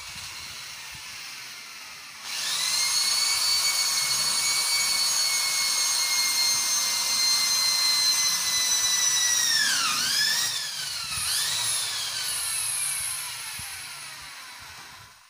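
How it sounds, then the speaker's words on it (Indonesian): An electric drill with a 4.5 mm bit bores through a steel U-channel beam, a loud steady high whine close by that dips in pitch twice under load before easing off. "Kalau langsung pakai mata bor 6 mili keras, lama susah tembusnya."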